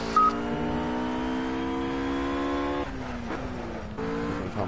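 A race car in the video game Project Cars drives into the pit box, its engine holding a steady harmonic whine that drops in pitch and stutters as it slows down, with no talk.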